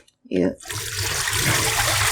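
Tap water runs steadily into a sink while cabbage is washed for kimchi, a continuous close splashing rush. It starts after a brief spoken word.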